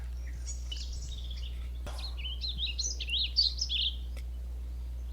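Bird song played back through a birdsong jukebox app, a bright run of chirps and warbled whistles of about two seconds, clear over a steady low hum, preceded by a sharp click.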